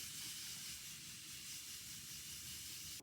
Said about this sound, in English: setting spray